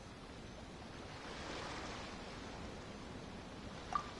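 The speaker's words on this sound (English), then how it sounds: "Oh, and the sound of the waves." Ocean waves wash steadily at Liyue Harbor in Genshin Impact, a soft, even surf hiss with a gentle swell in the middle and a brief faint tone near the end.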